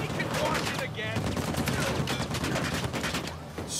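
Rapid bursts of gunfire shoot up a car in the video game Uncharted 4: A Thief's End, in a dense, continuous rattle of overlapping shots that holds steady at full loudness throughout.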